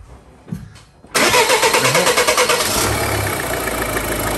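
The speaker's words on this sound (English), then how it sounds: "The car starts and runs." A Mini Clubman diesel, parked for two years, cranks briefly and fires up, then settles into a loud, close, clattering idle with no talking.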